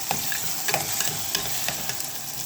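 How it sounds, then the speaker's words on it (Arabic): Onion and tomatoes fry and get stirred in a pan for shakshuka, a steady close sizzle with repeated scraping strokes of a spoon cutting through. "البصله نقلب فيها كده"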